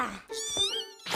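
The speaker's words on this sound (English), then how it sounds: "A kitten? Oh, what a beautiful kitten." A kitten in an anime scene gives a single drawn-out, wavering meow, close and clear, with brief voices just before and after it.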